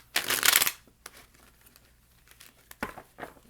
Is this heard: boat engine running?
no